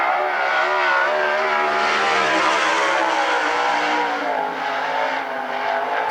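Steve Vague's No. 08 sprint car with a Shark Racing Engines motor and Rocket Chassis runs a qualifying lap on the Central Washington State Fair dirt track, its engine roaring loud and steady with rising and falling revs throughout.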